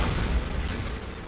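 A Bombarda blast spell in a wizarding video game, heard as a loud, dense rumbling explosion that slowly fades over about a second, with no voice.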